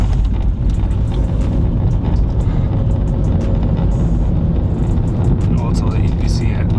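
A Volkswagen Polo Vivo pulls away and accelerates, its engine a loud, steady interior drone with road rumble, while someone talks over it.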